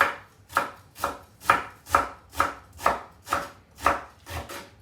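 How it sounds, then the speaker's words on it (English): Cabbage leaves chopped small on a cutting board for dumplings, nine evenly spaced knife chops in a steady rhythm, close and clear with no voices. "And you basically want to chop them up really small."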